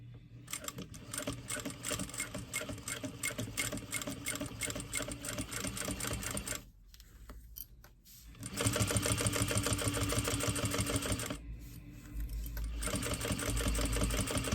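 A sewing machine stitches a tote bag at a regular stitch length, a close, rapid mechanical whirr with a steady needle rhythm, pausing briefly mid-run before starting up again and stitching on to the end.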